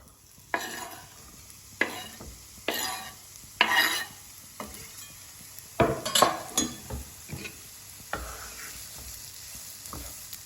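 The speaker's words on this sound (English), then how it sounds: "Let's add in our onion." Chopped onion sizzles in hot oil in a pan while being stirred, with repeated scraping strokes and clinks of the utensil against the pan, loud and close, with no talking.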